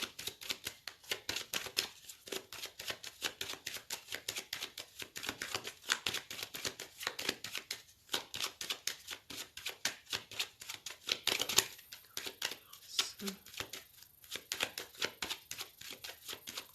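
Tarot cards being shuffled by hand for a reading, a steady run of soft papery riffles and taps that continues close and fairly quiet throughout, with no voices.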